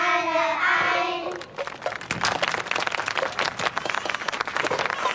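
Applause for young performers at a church festival breaks out as a sung tune ends: dense, steady clapping from a sizeable crowd carries through the remaining seconds, loud and close.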